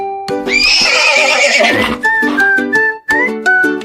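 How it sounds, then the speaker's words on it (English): A horse whinnies loudly and close by, a long shrill neigh followed by several shorter nickering calls. "Who could that be? It's a horse."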